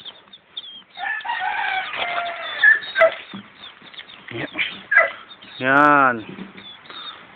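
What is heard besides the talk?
hatched chicks on a farm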